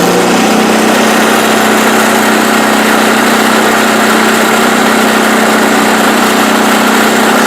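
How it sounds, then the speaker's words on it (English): A generator engine fitted with a modified muffler runs steadily nearby, a loud, constant droning hum with no change in pitch and no voices. "I'm going to go ahead and give it a start now. And hopefully it's at least a little bit quieter."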